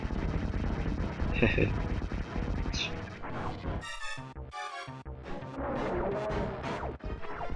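Super Metroid boss fight with arm cannon shots and missiles fired at the boss's mouth, a dense run of sharp blasts, crashes and explosions layered over game music, loud throughout.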